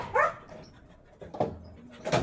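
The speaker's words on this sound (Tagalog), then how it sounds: "nagpapakain na ng aso" A few short dog barks or yips, spaced apart, moderately close, with quiet background between them.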